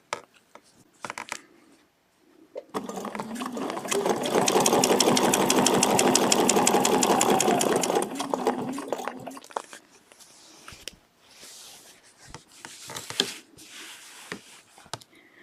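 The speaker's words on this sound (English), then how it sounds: "now I'm going to go back down the spine to the base and begin stitching the other side" A sewing machine stitches a feather leaf quilting design in one sustained run of rapid, even stitching that rises and holds for several seconds, framed before and after by lighter handling clicks and rustles.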